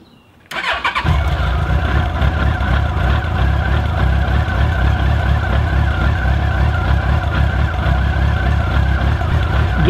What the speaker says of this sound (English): Let's go ahead and start this bike.